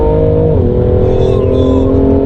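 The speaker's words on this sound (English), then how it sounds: "Let me drop the third gear." A BMW M3 engine roars loud and close under hard acceleration, with a brief dip in pitch at a gear change and then a sustained, steady, powerful drone.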